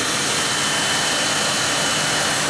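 An Auragen generator mounted in a truck runs for EV charging, giving a steady, loud, broadband roar with an engine-like hum that holds constant with no voices.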